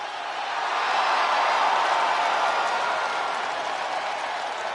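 A wrestling arena crowd cheers and applauds in a dense, sustained roar of clapping and voices, loud and steady throughout.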